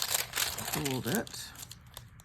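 Parchment paper, a quarter sheet, folded by hand in a junk-journaling craft session: brief close crinkling and crackling rustles, with a short stretch of speech partway through.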